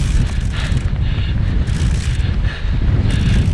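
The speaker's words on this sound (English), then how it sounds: "Actually the wind's really picked up again now." Strong gusting wind buffets a cyclist's microphone while climbing a country lane in Gloucestershire, a loud, continuous roar that swells and dips from gust to gust, with no talking.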